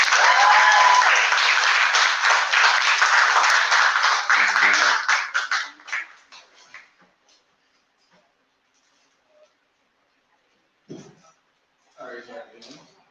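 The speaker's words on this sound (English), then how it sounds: "Can you guys give him a warm welcome applause?" A teach-in audience gives warm applause to welcome a speaker, dense steady clapping for about five seconds that tapers off into near silence, followed by a few faint stray sounds.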